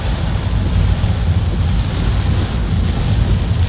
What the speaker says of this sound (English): it seems like the rain is getting harder and harder